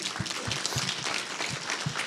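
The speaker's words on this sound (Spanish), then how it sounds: "Dense un aplauso a sí mismos" A church congregation claps for itself during a sermon, a soft, fairly even patter of applause with a faint regular low thump underneath, somewhat distant and with no speech.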